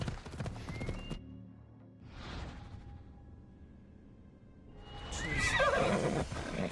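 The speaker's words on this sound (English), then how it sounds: "I need to take this horse either to Adonis or to the stable boy." A horse in the video game Assassin's Creed Odyssey neighs twice, a shorter whinny early on and a louder, longer one near the end, with faint hoof clip-clop and game ambience between.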